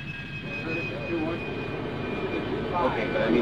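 An AV-8A Harrier jet taxis on the ground with a steady, loud engine roar and a high whine. A narrator talks over the noise.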